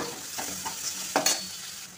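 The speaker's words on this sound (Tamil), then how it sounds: "இப்போ வெங்காயம் தக்காளி நல்லா வதங்கிட்டாங்க" Onion and tomato sauté in a pan while being stirred during the making of a green peanut kuzhambu: brief scraping stir strokes over a soft, steady sizzle, close and fairly quiet.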